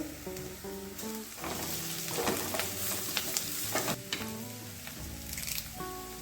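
Freshly crushed ginger and garlic sizzle in hot oil in a pan for a cauliflower pepper fry, a close, steady frying crackle broken by stirring scrapes and soft clinks.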